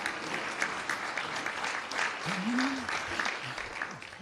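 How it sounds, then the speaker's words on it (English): Sustained applause from an audience at a county address, a dense steady clapping that holds at even loudness throughout. "Let's give another round of applause for all of that hard work that happens in DCMH"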